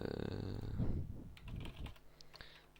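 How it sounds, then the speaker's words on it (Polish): Keys clatter on a computer keyboard in short irregular bursts, fairly close, with a faint steady hum underneath and no talking. "wpisujemy po prostu w Google."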